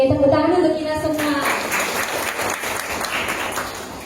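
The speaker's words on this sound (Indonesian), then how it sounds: "Oke, tepuk tangan untuk kita semua." Audience applause at a morning university lecture event, a dense crowd clapping steadily for about three seconds after a voice briefly speaks at the start, staying loud and even throughout.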